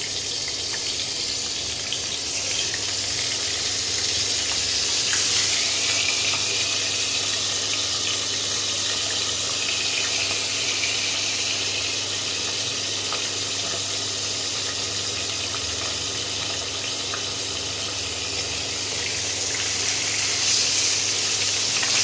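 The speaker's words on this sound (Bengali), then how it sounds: "তেলটা গরম হয়ে গেছে, আমি মাছটাকে আস্তে আস্তে ছেড়ে দিচ্ছি" Tangra fish slide into hot oil and fry with a continuous, even hiss and crackle. The sound stays close and fairly loud throughout.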